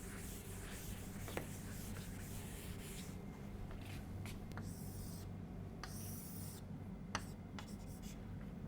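A lecturer draws a graph on a board, with faint scratchy marker or chalk strokes over a steady background hum and a few sharp taps.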